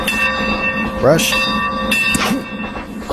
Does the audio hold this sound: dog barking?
no